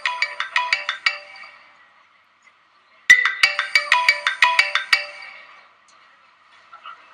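Telephone ringtone plays in two loud, clear bursts of rapid repeated electronic tones, with a short silence between the bursts and quiet afterward.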